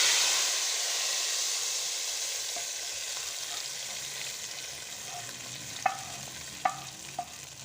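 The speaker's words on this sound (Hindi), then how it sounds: "अब मैं इसको बघार लगाती हूँ दाल में" Browned onions in hot ghee hiss loudly and evenly as the tempering goes into the lentils, the sizzle slowly fading, then a few sharp clinks of a utensil near the end.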